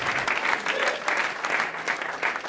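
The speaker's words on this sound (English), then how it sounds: "you guys were a little late on that applause" A comedy special audience gives steady, dense applause that stays loud and even throughout, with faint crowd murmur underneath.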